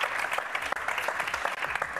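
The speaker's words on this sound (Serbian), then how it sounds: "Slobodan aplauz možete za ove palice." A television studio audience on a Serbian entertainment talk show claps steadily and densely, a loud, continuous applause with no speech over it.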